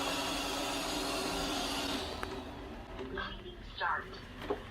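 A Vrillo J300 robot vacuum motor whirs steadily for about two seconds, then winds down and stops as a person starts talking.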